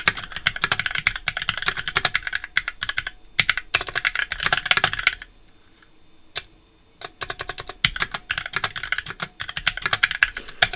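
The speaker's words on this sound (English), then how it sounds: "I'm used to typing with a wrist rest" Rapid, close clacking of a mechanical keyboard with vintage Cherry MX Black switches comes in dense bursts, pauses briefly near the middle with a lone keystroke, then resumes at a quick, uneven rhythm.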